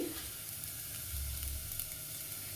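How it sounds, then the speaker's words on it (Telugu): Curry leaves dropped into onions frying in oil for cabbage curry, giving a steady, even hiss and crackle from a close pan, with no voices. "కొంచెం ఆనియన్ ఫ్రై అయిన తర్వాత కరివేపాకు వేసుకుందాం"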